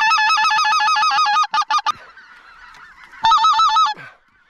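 Speckle-bellied geese call in loud, rapid honking bursts, a dense stretch of overlapping honks, a few short clipped calls, a pause, then another close burst before fading to quiet.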